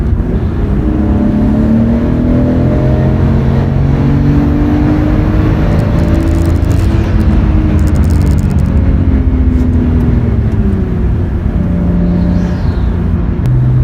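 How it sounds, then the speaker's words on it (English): Nissan Skyline R32 engine cruising, a steady close-up drone with rising and falling pitch as it revs, the occasional exhaust pop or burble barely standing out, and no talking. "Every now and again, you get a few pops and burbles and all that other stuff."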